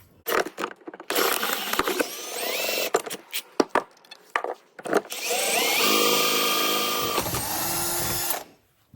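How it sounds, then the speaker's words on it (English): An electric drill bores through the steel of a handyman farm jack, whining loudly in sustained bursts broken by short stops, clicks and mechanical clatter, ending in a long steady grinding run close by. "Drill it all the way through."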